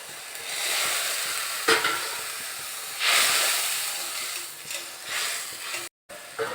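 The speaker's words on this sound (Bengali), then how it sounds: "এইবার ভেজে রাখা মাছগুলো দিয়ে দিতে হবে" Puti fish already fried are tipped into a pan of hot oil and stirred, giving a steady loud sizzle and hiss with a few scraping stirs and one brief dropout near the end.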